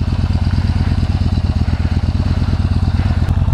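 Yamaha Bolt motorcycle engine idling up close, a loud steady low rumble with a fast even thumping pulse and faint mechanical clatter, no voices over it.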